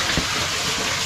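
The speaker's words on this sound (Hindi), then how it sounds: "ये आटा चक्की है," Water rushing steadily beneath a small water-powered flour mill in a Himalayan village, a continuous close gushing flow with no voices.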